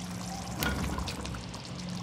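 250 grams of cut, peeled and washed potatoes go into a pan of spinach with a brief soft rustling splash over a steady low hiss.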